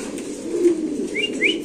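A Mundian pigeon coos softly and close by, a low repeated throaty murmur, with a couple of brief higher chirps near the end and no voices.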